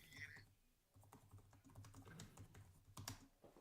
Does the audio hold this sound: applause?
no